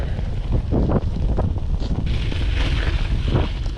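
Strong winter wind on a seaside promenade by the sea during a storm, roaring as steady buffeting gusts against the microphone with a few louder surges, loud and close, no voices.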